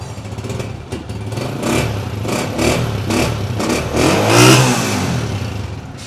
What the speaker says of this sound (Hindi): बाइक स्टार्ट खड़ी है, अच्छी नॉक में इंजन बोल रहा है